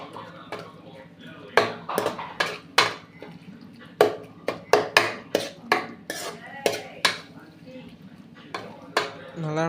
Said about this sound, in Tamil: நல்லா நம்ம போட்ட தோசை நல்லா கிளறி விட்டுக்கலாம்